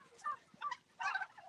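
Domestic turkeys in a farm barn holding about 8,000 birds break into three short bursts of gobbling, faint and somewhat distant, with brief quiet gaps between the calls.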